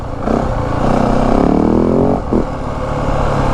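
A 2025 Yamaha WR 450F dirt bike engine lugs at low revs in third gear, a close, loud, steady rumbling drone that rises slightly in pitch, briefly dips, then holds on.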